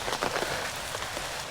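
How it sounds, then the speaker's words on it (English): Heavy rain pours down in El Nido, Philippines, a dense and loud steady hiss of drops hitting the ground and nearby surfaces, with no voices over it. "It starts to pour rain."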